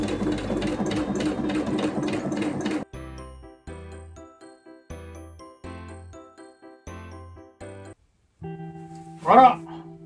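A sewing machine stitches the outer edge of a synthetic leather part for the pop-up roof of a kei camper, an Indy 727, whirring steadily at first and then running in short stop-start bursts, ending with a brief high chime.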